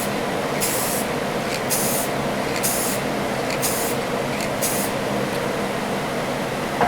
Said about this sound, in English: I decided to put on a base coat after the primer of some lighter green metallic.